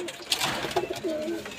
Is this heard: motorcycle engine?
no